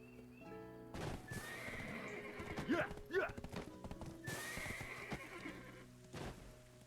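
Horse in the online game Black Desert Online, with repeated hoof clip-clops and a couple of whinnies over soft game music, moderately loud and close throughout.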